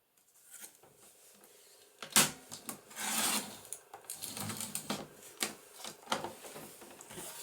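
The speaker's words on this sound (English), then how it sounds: "I'll just need to trim that down a fraction." Paper being trimmed for a junk journal, with a sharp cutting stroke around two seconds followed by repeated rasping, scraping slices of varying loudness, close and without talk.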